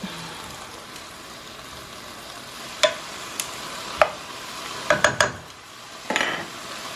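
Chopped celery and onion cook in a pan with a steady low sizzle. Several close utensil clinks and scrapes against the pan break through at intervals.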